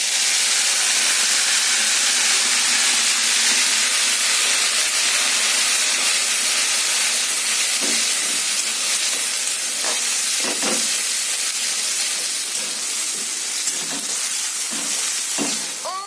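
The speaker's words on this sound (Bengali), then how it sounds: "টমেটো আর রাঁধুনি 3টে জিনিস আমি পেস্ট করে নিয়েছি। এবার এটা আমি তেলের মধ্যে দিয়ে দেবো।" Tomato and radhuni spice paste sizzles loudly and steadily in hot oil, a dense continuous hiss with a few scraping stirs toward the end and no talk.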